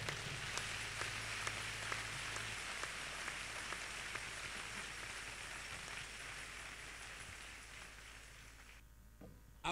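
Church assembly applauding its outgoing president, a reverend apostle: steady dense clapping from a large crowd sustained for nearly ten seconds, fading slightly before stopping abruptly.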